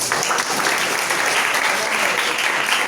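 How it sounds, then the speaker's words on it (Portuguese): Sustained, steady clapping from an audience at a poetry evening in a library in Jaboatão dos Guararapes, fairly loud and even throughout, with faint voices beneath. "eu peço uma salva de palmas para mim"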